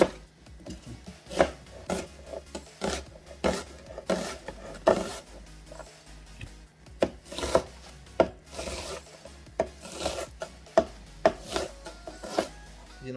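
Onion being chopped on a board, rapid irregular bursts of knife knocks and scraping strokes, close and fairly loud, with short pauses between runs.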